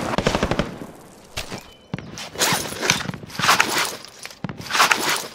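Enemy gunfire in Call of Duty: Modern Warfare, rapid automatic bursts and sharp cracks near and mid-distance, interleaved with footsteps and rustling movement, several separate bursts over a few seconds.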